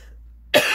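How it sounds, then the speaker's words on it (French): A single sharp cough bursts out after a stretch of near silence, loud and close. "un truc dans la gorge qui me tousse"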